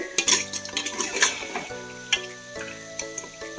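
Chicken being stirred gently in a cooking pot, a few soft scrapes and light metallic clinks of a spoon against the pot close by, irregular and brief, with no talk.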